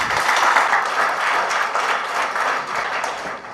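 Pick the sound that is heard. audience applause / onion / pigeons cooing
audience applause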